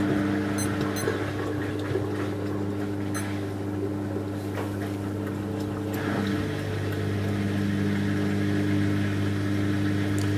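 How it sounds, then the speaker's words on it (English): A 2006 LG WM14225FD front-loading washing machine tumbles and balances its load before a 1400 RPM final spin on a 60C cotton cycle, giving a steady close hum with a low rumble and faint clunks throughout. "So this is the full 1400 RPM spin, and it might take a few minutes or so to balance the load before it kicks into spin."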